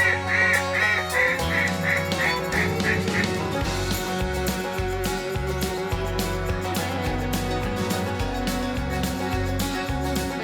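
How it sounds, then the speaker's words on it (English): Mallard duck quacking in a rhythmic run of calls in flooded Arkansas timber, over a dense, loud musical backing that masks much of it. "That's a big mallard right there."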